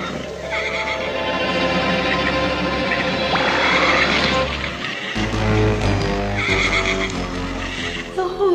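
Winged horses in a cartoon neigh and whinny repeatedly, loud and close, with shrill rising and falling calls over a steady low rumble.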